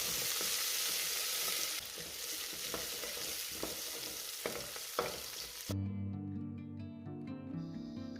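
Curry leaves and a medium onion sizzling in hot oil in a pressure cooker, with bright frying crackle, a few scrapes and clinks of stirring, then quieter under background music near the end.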